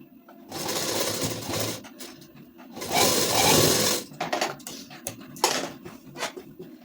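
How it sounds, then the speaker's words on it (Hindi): A sewing machine stitches lace onto a suit in two close runs with a short pause between, and clattering, clicking handling noises of fabric and parts follow after the stitching stops. "एक सिलाई चलाएंगे इधर साइड में"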